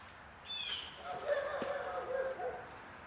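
A neighbor's dogs bark outdoors in a northwest Ohio garden: a few moderately distant barks and yips scattered over a couple of seconds, mixed with faint bird chirps.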